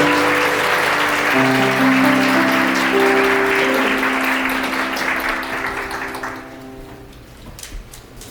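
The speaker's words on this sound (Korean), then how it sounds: "뜨거운 박수 부탁드리겠습니다" Wedding guests at a hotel ceremony applaud warmly, a dense steady patter of many hands under sustained music, gradually fading out toward the end.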